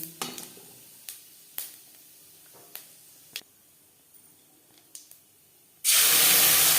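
Lentil dumplings (bori) fry in a small amount of oil for fish curry, with a few sharp pops and crackles spaced out over a quiet sizzle, then a sudden loud, steady hiss near the end.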